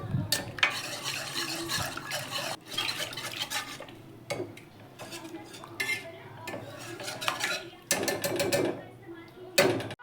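A spoon stirring chilli powder into a mashed mixture in a metal dish, giving repeated scraping and clinking bursts in an irregular rhythm, close up and fairly loud, with brief pauses between strokes.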